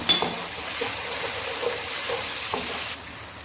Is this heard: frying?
yes